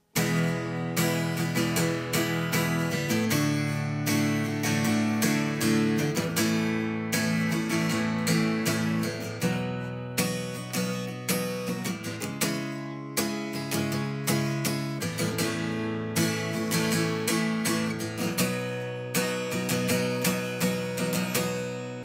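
Strummed guitar chords, including barre chords, ring out in a steady rhythmic pattern from a song, bright and continuous, shifting between chord shapes with no one speaking.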